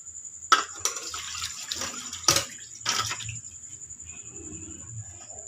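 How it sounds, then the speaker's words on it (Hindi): A herbal decoction of afsanteen and chirata is poured through a strainer, giving several short splashing bursts of liquid up close, then a quieter trickle that dies away. "अफसातीन और चरैते का जो कावा है हम इसे स्टेन करने जा रहे हैं।"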